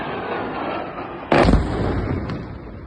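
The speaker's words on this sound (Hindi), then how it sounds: "इस वीडियो में धमाकों की आवाज आप भी आसानी से सुन पा रहे होंगे।" A single heavy blast from a burning Pakistani army base after missile strikes, a sudden loud boom standing out over a steady rumbling din of fire and distant activity.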